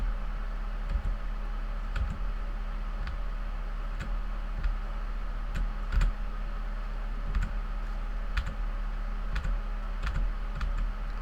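Single keys on a computer keyboard are tapped repeatedly during work in a painting program, making crisp, close clicks spaced about a second apart over a steady low hum, with no talk.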